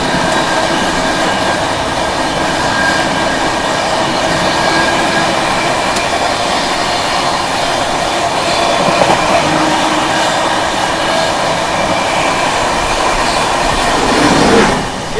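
An express train, the Golden Temple Mail, overtaking on the Mumbai–Delhi railway, a loud continuous rumble of rolling cars with steady rail noise and faint clatter, close, ending in a brief surge.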